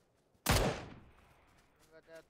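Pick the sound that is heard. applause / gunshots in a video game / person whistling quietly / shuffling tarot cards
gunshots in a video game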